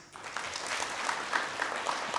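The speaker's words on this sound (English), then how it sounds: "Another clap for our trustees." A meeting audience at the Safari Park Hotel in Nairobi gives sustained, moderately distant applause at an annual general meeting, a dense patter of many hands with no talk.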